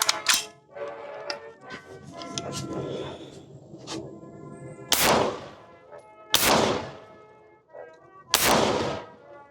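Gunshots from an Armalite AR180B rifle with a plastic stock: three loud, sharp reports spaced a second or two apart, preceded by smaller clicks and handling noises and followed by short ringing decays.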